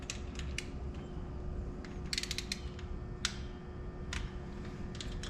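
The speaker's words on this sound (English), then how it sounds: "We're gonna torque it down." A torque wrench tightens the alternator cover bolts on a Triumph Bonneville motorcycle, giving sharp ratcheting clicks in a close, irregular cluster over a low steady workshop hum.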